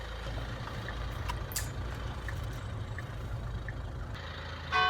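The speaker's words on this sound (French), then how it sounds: "Le moteur de litre 2 diesel 4 cylindres de 200 chevaux est souple et silencieux." Two-litre four-cylinder diesel engine of a Kia Sorento running with a steady low rumble throughout, close and even, with a brief brighter noise right at the end.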